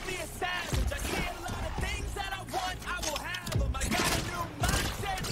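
A Gammcor beam weapon in Warframe fires in a continuous crackling, warbling stream, loud and close, with the chaotic impact sounds of enemies being shredded and brief bursts of voice underneath.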